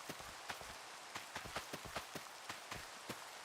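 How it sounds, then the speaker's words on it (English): Rain falls in the Minecraft video game, a soft, steady hiss of rain layered with a quiet run of sharp, regularly spaced tapping clicks. "It is nice that it's raining."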